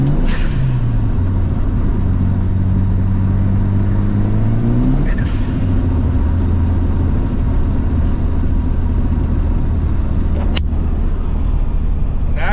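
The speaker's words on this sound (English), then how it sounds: "Turbo hits, it just spins the front wheels just right now" A 1997 Mitsubishi Eclipse GS-T accelerates hard under turbo boost, its engine note climbing in steady rising harmonics while the front wheels spin. It stays loud and close throughout, with a brief shift-like break midway and a sharp click near the end.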